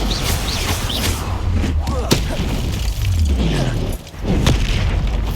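Expulso blasting-curse explosions in Hogwarts Legacy boom through a busy magical fight, several thumping blasts and a shatter mixed with spell effects and voices over dense, loud combat noise.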